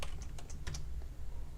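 Quick bursts of keystrokes on a computer keyboard as a password is entered, several close, crisp clicks in a short irregular run over faint background hum.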